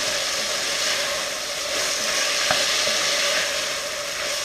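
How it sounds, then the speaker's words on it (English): Tomatoes fry in a pan with a steady, close sizzle, and one sharp knock from the stirring utensil stands out midway with no voices. "And you want to add in all of your tomatoes. Let me give that a stir."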